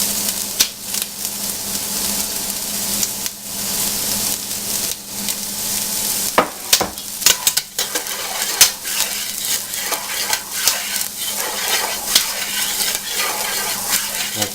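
Onions, celery and garlic sweating in bacon fat in a pan give a steady, close sizzle, with scattered clinks and scrapes of a utensil stirring through it. No one speaks.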